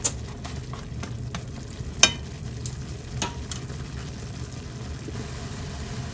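Wild porcini mushrooms frying on medium-high heat in a pan, a steady soft sizzle with a few sharp clinks and scrapes of stirring scattered throughout, close and fairly quiet, with no talking.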